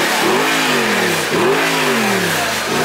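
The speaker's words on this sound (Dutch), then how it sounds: "Oh joh, ik hoor Mercedes tegen Porsche." Mercedes and Porsche sports cars rev hard at a Zandvoort supercar meet, loud engine notes rising and falling in repeated sweeps over broad roaring noise.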